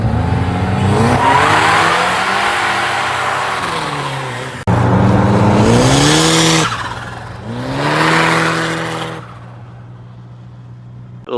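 A UAZ 452 van with a 2.3 turbo engine revs hard in loud, rising and falling bursts, with a brief break before the engine settles into a steadier idle near the end.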